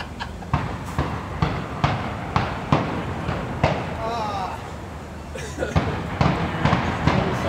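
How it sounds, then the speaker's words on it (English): Fireworks go off near Fenway Park in a steady series of sharp bangs and pops, some distant, with a voice talking briefly between the blasts. "We've got a fireworks display going on out here"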